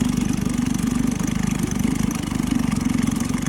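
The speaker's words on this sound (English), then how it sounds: "Idles right down" A vintage 1956 Johnson 7.5 hp outboard motor, running rich on a 16-to-1 fuel mix, idles with a steady, close, throbbing putter that holds an even rhythm throughout, with no voices.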